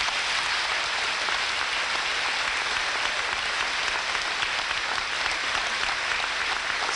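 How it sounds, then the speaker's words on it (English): Steady, dense applause from a large crowd at a high school graduation, continuous and fairly loud throughout with no voices standing out. "Please give these scholarship recipients and businesses a round of applause."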